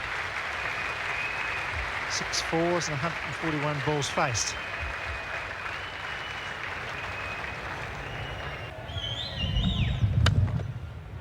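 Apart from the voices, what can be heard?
cricket crowd applause for a batsman's fifty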